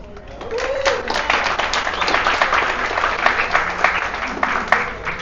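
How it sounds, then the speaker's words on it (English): Steady applause from a sizable audience, many hands clapping densely and continuously throughout, fairly close and even in loudness. "Everyone, mark you out, round of applause."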